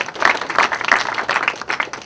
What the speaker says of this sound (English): say something really nice about Dan Kennedy, you, of course, as a group, applaud.